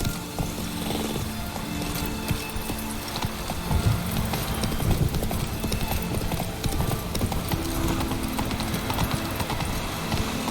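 Hooves of Roach, Geralt's horse in the video game The Witcher 3: Wild Hunt, clip-clop steadily at a gallop, a continuous close rhythmic pounding over a low rumbling game ambience, with no voices.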